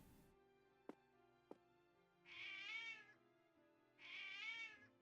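A cat meows twice in the Triangle Strategy video game, two drawn-out, fairly loud cries about a second apart, preceded by a couple of soft clicks.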